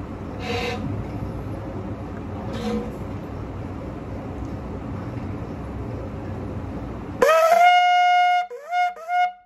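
A Yemenite shofar with a freshly enlarged mouthpiece, still hot from shaping, sounds a sudden loud bright blast that bends upward and then breaks into a couple of shorter wavering notes, following a stretch of low background rumble.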